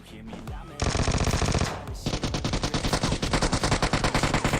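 Rapid automatic gunfire in a battle royale video game, loud and close, with a brief pause before a second sustained burst of rhythmic shots.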